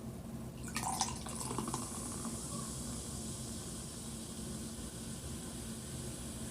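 A ginseng and ambrosia drink is poured in a steady trickling stream with a soft hiss. After a brief splashy start it runs on evenly for several seconds, close and moderately loud, with no talking.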